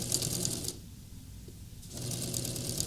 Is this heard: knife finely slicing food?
no